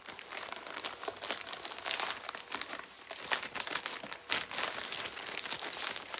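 Plastic poly bags crinkle and rustle continuously up close while embroidered patch and sweatshirt orders are packed, in dense, irregular bursts with no talking.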